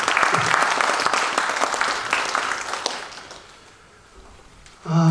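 Audience at an academic conference breaking into strong applause, dense clapping that fades over about three seconds before a voice starts speaking.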